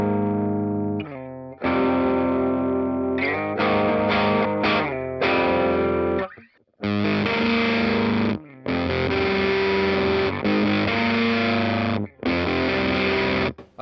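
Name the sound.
electric guitar through fuzz and overdrive pedal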